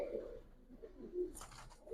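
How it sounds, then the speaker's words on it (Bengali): A Giribaz pigeon gives a brief, soft, low coo close by, followed by a faint higher chirp near the end, with no talking over it. "খুবই সুন্দর কবুতর ভাই"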